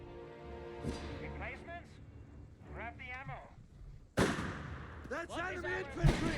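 Gunfire and artillery blasts from a Company of Heroes 3 multiplayer match, with someone commentating over the battle sounds, which are moderately loud and grow sharper and heavier partway through.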